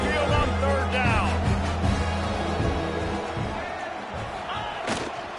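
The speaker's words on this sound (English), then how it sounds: "The Tide crowd rolling noise down on the Saban field on third down." Roaring stadium crowd at an Alabama Crimson Tide home game in the football video game NCAA 26, a loud continuous swell with thuds and a sharp crack near the end, under game commentary.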